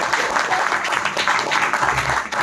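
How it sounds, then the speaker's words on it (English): An audience at a presentation breaks into a short round of applause, a dense wash of clapping that stays steady throughout. "Let us give him a quick round of applause."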